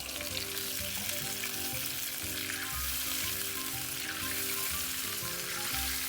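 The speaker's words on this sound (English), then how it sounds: "And then you're going to throw in some chicken broth." Chicken broth goes into a hot pan of sausage, raising a loud, continuous sizzle and bubbling hiss that holds steady throughout, with no talking.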